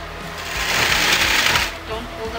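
Sewing machine stitching the hip seam of a circle skirt, a rapid, even mechanical chatter swelling in the middle of the burst, close and fairly loud.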